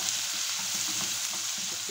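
Farofa with ora-pro-nobis fries in a pan with a constant bright sizzle, while soft scraping strokes of stirring recur beneath it, close up and without talk.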